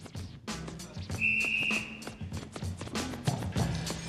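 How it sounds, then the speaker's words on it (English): A single sharp whistle blast on the Soccer AM television show rings out for about half a second over a busy, noisy studio background of movement and chatter. "wait for the whistle"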